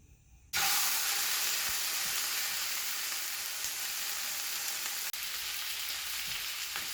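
Pieces of pork drop into hot oil in a pan and start frying, a sudden loud burst of sizzling that settles into a steady, close hiss with a brief break partway through.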